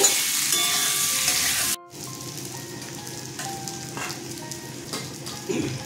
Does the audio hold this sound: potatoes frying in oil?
yes